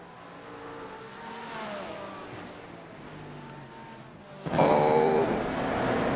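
Race car engines in the GT3 Rumble racing game drone steadily as cars close on a slower lapped car. The engine pitch climbs and falls, then one car roars in much louder and nearer toward the end.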